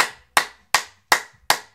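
Five sharp hand claps in a steady, evenly spaced rhythm during a call-and-response clapping game, each crisp clap ringing briefly before the next, close and alone with no talk.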